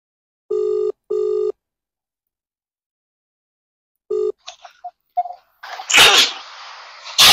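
Telephone ringback for an outgoing audio call sounds twice in quick bursts, then once more after a pause, followed by clicks and a loud burst of noise as the line connects.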